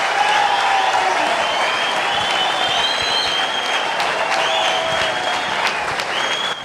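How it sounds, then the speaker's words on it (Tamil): Sustained applause from a studio audience at a Tamil Arattai Arangam talk show, dense even clapping heard close and continuing without a break for several seconds. "அந்த பெண்ணின் குரலே வரவில்லை, அதற்கு முன்னே கைத்தட்டல் வருகிறது"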